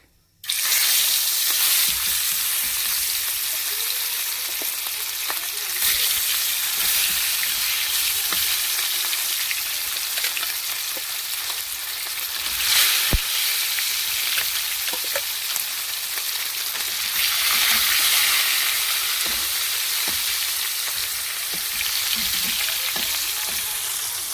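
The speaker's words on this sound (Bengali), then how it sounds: "কড়াই গরম হয়ে গেছে, মাছটা ভেজে নেব" Rohu fish seasoned with salt and turmeric frying in hot mustard oil in a wok, a loud, steady crackling sizzle up close that holds without pause, with a few sharper spits and pops.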